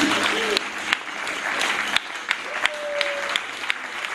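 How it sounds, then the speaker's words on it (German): An audience applauds at an art world championship semifinal, sustained clapping with a few sharper claps standing out, while a voice briefly speaks over it. "Ein extra Applaus"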